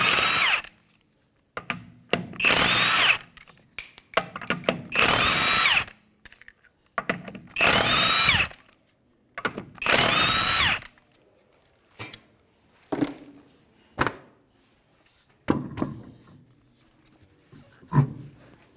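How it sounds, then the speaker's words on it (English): Impact gun spinning off the 21 mm lug nuts on a 2015 Hyundai Sonata rear wheel on a lift, with four loud, close bursts of rattling whir followed by shorter clicks and clunks of the nuts and socket. "To remove the rear wheel, it's going to be a 21 millimeter."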